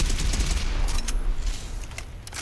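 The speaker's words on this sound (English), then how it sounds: "So now we're full auto, and we're shooting lasers." Full-auto laser pistol fire in Fallout 4, a rapid, dense stream of electric zapping shots with a heavy low thump underneath, continuous throughout and tailing off slightly at the end.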